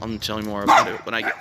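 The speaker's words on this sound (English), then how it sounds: "Sorry about the dog barking in the video." A dog barks in short bursts indoors, close by, partly under a person speaking steadily throughout.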